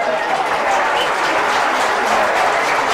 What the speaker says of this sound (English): getting a great round of applause from the Castleblayney supporters